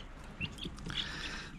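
Young Dutch hens and a rooster cluck and chirp softly in a farmyard, a few brief high calls close by over a quiet background.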